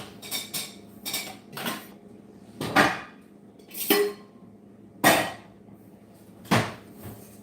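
A saucepan and other pans being handled in a home kitchen while making pumpkin pie: about eight separate metallic clanks and knocks, some in quick pairs, with quiet gaps between them and no talk.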